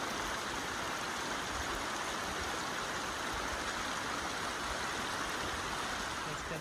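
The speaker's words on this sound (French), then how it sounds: "Chaque petite cascade finit en petit ruisseau qui vient alimenter le Giffre." Small cascades and mountain streams flowing into the Giffre at Sixt-Fer-à-Cheval: a soft, steady rush of running water that holds at an even level throughout, fairly faint and without distinct splashes.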